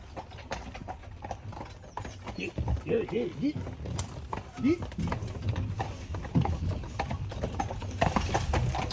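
Carriage horse hooves clip-clop in a steady rhythm close by on Mackinac Island, Michigan, with people talking over them and a faint whinny.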